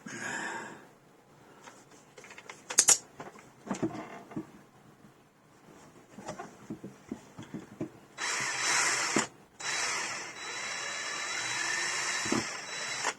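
A power drill whirs in short bursts at first, then runs in longer steady stretches with a brief pause, close by.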